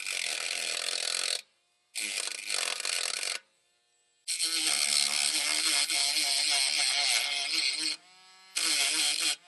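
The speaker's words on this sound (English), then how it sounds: "I have a little rotary tool here. I'm just going to scratch that a little bit so I can remember that's the face I want to measure against." A small handheld rotary tool scratches a mark onto a metal tie rod part during a 2006 Honda Odyssey rack and pinion boot replacement, producing loud high-pitched whining grinds in four separate bursts with short silent gaps between them.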